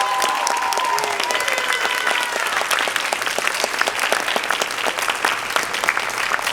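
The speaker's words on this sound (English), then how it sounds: "Can we get a round of applause just for the AKM board?" Audience applause fills the room at the AKM Pageant, a steady dense wash of clapping from a crowd that holds for several seconds without letup.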